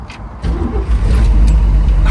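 A 1962 Chevrolet Impala with a 409 engine starting up, a brief cranking burst that catches into a loud, rumbling idle, close and steady.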